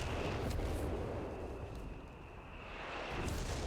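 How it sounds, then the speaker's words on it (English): A base artillery barrage in Company of Heroes 3 rumbles as continuous dense booms and shell impacts, loud and sustained throughout with no pauses. "that was the recce package calling in the base artillery there"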